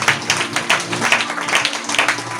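A church congregation claps loudly at a preacher's call, a dense run of overlapping hand claps with a steady rhythm close by and no clear talk over it.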